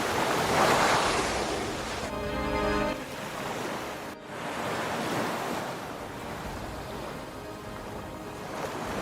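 Open ocean surf churns and sprays as a superpod of killer whales attacks gray whales, a loud continuous wash of water with gusting wind noise and a brief break midway.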